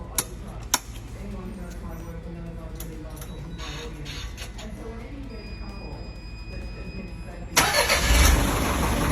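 A vehicle engine is cranked with a HYPASTART X2500 capacitor jump pack over a steady mechanical hum and occasional ticks. Near the end it catches and starts, with a sudden loud roar.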